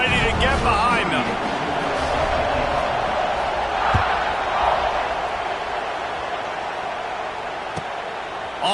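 Stadium crowd noise from an EA Sports College Football 26 game, a steady roaring wash of fans that holds throughout with a couple of brief thumps, while commentary runs over it.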